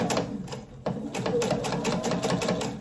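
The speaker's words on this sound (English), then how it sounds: "when you sew over them, just go really slowly so you don't break your needle" A sewing machine stitches slowly over zipper pieces while making a quilted clutch wallet, giving a steady, close, mechanical run of rapid needle strokes with a brief hitch near the start and no talking.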